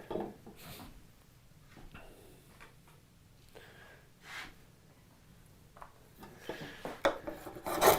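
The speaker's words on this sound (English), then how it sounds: "So let's clamp this up and let's flatten the surface down." A wooden surface clamped down is flattened by hand, producing intermittent rasping and rubbing strokes, close and fairly quiet, with short pauses between passes and a few louder scrapes near the end.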